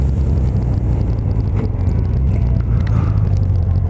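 Cars on a road near a historic park rumble past in a steady, loud low drone. Some tire scraping and faint revving come through, with no voices over the traffic.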